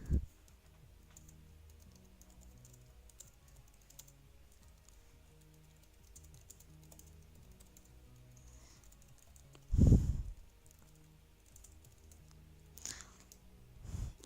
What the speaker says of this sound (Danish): jeg skriver bare med ham